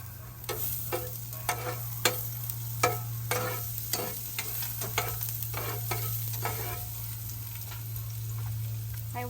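Onion and garlic stir-fried in a pan for lumpia filling, a steady sizzle broken by repeated sharp scraping strokes of a spatula, with a constant low hum running underneath.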